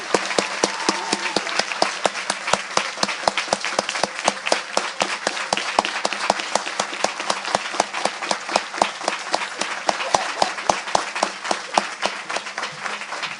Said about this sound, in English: please join me in a round of applause that will shake the rafters for Vielke Holness and Elizabeth